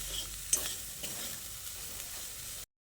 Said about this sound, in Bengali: গুঁড়ো মশলাটাকে দিয়ে প্রায় 2-3 মিনিট সময় ধরে মশলাটাকে ভালো করে কষিয়ে নিতে হবে